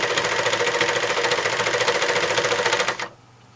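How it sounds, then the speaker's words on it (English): Serger overlocker stitching a seam in stretch fabric, a loud steady rapid mechanical whir with fast rhythmic needle clatter lasting about three seconds, then stopping abruptly into near silence. "But I do like the finish that an overlocker gives me."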